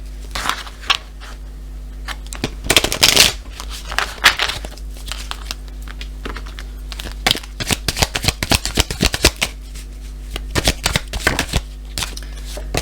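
Oracle cards are cut and riffled in crisp, close bursts of flapping and snapping, the shuffling repeated in irregular clusters over a steady low hum.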